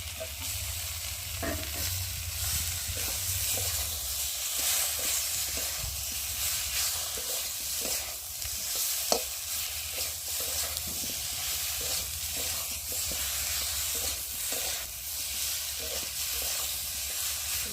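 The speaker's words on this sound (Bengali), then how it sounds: "ভালো করে কষিয়ে নিই" A tomato and ground spice paste sizzles in hot oil while being stirred for a tilapia fish curry, a steady close frying hiss with regular scraping strokes of the spoon against the pan and no speech.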